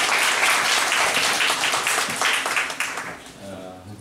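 Steady applause and clapping from a classroom audience welcoming a teacher, loud and continuous for several seconds before tapering off near the end.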